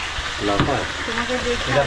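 Potato pieces fry in hot oil with a cumin, ginger and green chilli paste, hissing and spattering steadily while a voice talks over the cooking.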